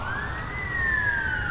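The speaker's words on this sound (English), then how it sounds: "It's nighttime and I can hear sirens." An outdoor emergency siren at night, heard as a single sustained wail that slowly rises and falls, fairly close and clear over a low background hum.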